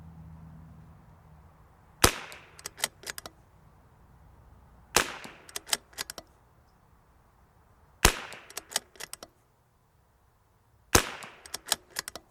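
Four bursts of .22 rimfire rifle shots with Norma TAC ammunition, each a sharp crack followed by a few quick follow-up shots, spaced about three seconds apart outdoors.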